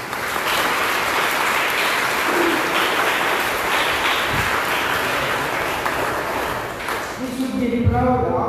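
Audience clapping at a high school event marking World Rabies Day, loud continuous applause filling the room for most of the stretch, fading near the end as a tone and a voice come in.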